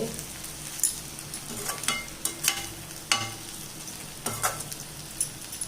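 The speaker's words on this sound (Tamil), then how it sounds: "இப்போ மூடி எடுத்துகிட்டு கிண்டி விடலாம்" A brinjal poriyal (Tamil eggplant stir-fry) being stirred in a pan, sizzling steadily under a series of sharp scraping and clinking strokes of the spoon at irregular intervals.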